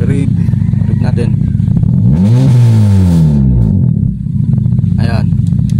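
A Honda Civic FD with an unsteady idle that stalls when the gas pedal is pressed idles up close, then revs once, climbing and falling back to idle, while someone talks over the engine.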